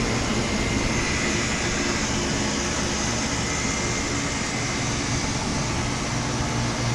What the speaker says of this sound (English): The Janitrol heat pump just started up.